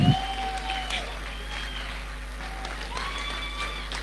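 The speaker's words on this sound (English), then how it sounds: "If you know the work that he has been putting into this, you should clap now." An audience at a tech conference in Port Harcourt claps and cheers, with a few whistles and shouts rising over sustained applause while a voice speaks over it.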